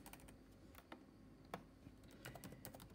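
Quiet typing on a computer keyboard, with irregular clicks and a few sharper keystrokes over about three seconds, close-up and without voices.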